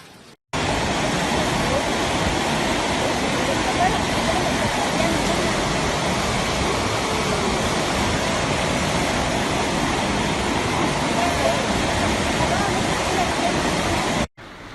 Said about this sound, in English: The once tranquil Spanish countryside was engulfed by a torrential symphony of rushing waters